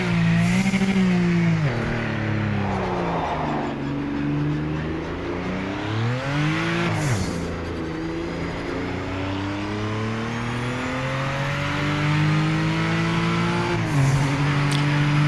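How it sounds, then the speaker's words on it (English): A race car in Project Motor Racing, played on PS5 with a controller, roars loudly through its gears with a turbo engine, rising revs and sharp gear changes repeating over fifteen seconds, the engine close and dominant throughout. "Listen to that turbo."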